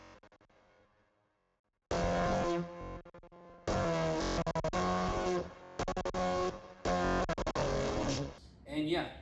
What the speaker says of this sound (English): we added the same 808 with an octave up that has the effects that gave it most of its character.